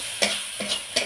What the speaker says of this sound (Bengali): মশলাটা বেশ কিছুক্ষণ এইভাবে কষিয়ে নেব।